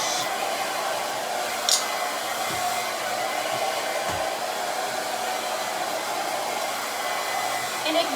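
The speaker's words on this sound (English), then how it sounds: "Now I use a really, really big round brush." A hair dryer blows steadily and fairly loudly while hair is dried with a very large round brush, the airflow tone shifting slightly as the brush moves, with no talking.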